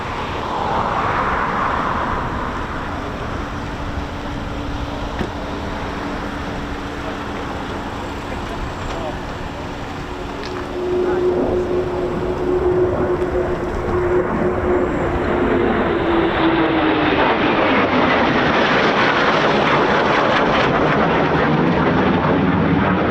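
A Eurofighter Typhoon FGR4 jet at RAF Coningsby passes with a broad, building roar that swells louder in the second half, with a steady whining tone sweeping downward as it goes by.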